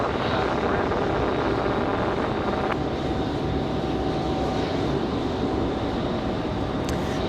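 An Airbus A330 taxiing at Raleigh-Durham airport, a continuous loud jet engine drone with steady broadband rumble and a faint whine, heard from a distance without pause.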